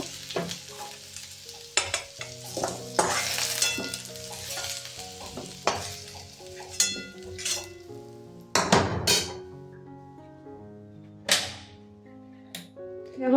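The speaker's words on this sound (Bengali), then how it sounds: "এই দেখো আলুগুলো আমি লাল লাল করে ভেজে নিয়েছি এখন সব আলুগুলো কড়াই থেকে তুলে নেব" Potatoes fried until reddish-brown are lifted out of hot oil in a wok, with steady sizzling broken by sharp clinks and scrapes of a utensil against the pan throughout.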